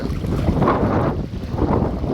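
Water spilling over the full Thoppur dam (Thoppaiyaru dam) produces a steady, broad rushing roar with no break, mixed with gusting wind buffeting the microphone outdoors.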